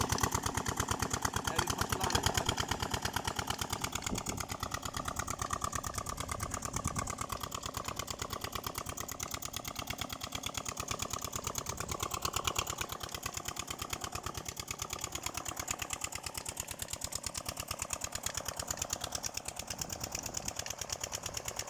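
A Peter diesel engine driving a water well near Pind Abdal runs steadily nearby, its rapid, uniform putter holding at an even level for a long stretch with faint mechanical hum and no talk over it.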